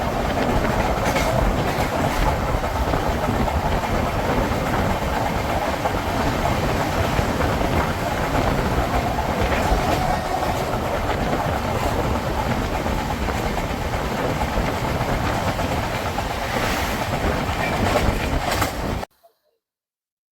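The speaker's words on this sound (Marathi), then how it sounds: "तर ट्रेन खूप फास्ट झाली आहे" A passenger train on the Ratnagiri to Thivim monsoon run races through Kudal station without stopping, its wheels clattering steadily over the rails in a loud, continuous rush until it cuts off abruptly near the end.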